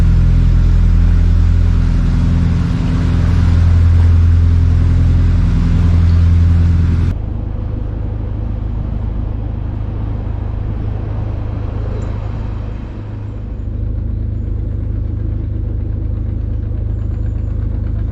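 A canal boat diesel engine runs loud and close with a steady knocking idle, its tone dropping and shifting partway through as it keeps chugging.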